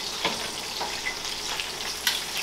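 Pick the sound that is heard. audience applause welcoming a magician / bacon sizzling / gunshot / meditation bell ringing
bacon sizzling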